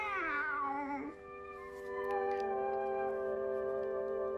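A cartoon cat gives a drawn-out, wavering meow, followed by a long sustained musical tone that fades gently.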